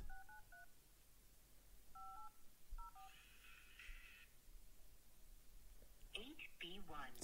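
Keypad dialing tones during a live real estate cold call: three short bursts of paired beeps, faint under a low room hiss, with a brief muffled phone sound near the end.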